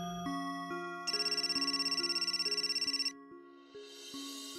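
A mobile phone rings with a bright, repeating electronic ringtone as the same number calls again, the melodic pattern pulsing steadily for several seconds before breaking off, close and clear in a quiet indoor room.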